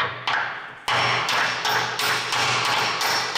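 Repeated hammer blows during transmission work on a Case IH 9350 Steiger tractor, five or six sharp, loud strikes at a steady pace that ring on briefly after each hit.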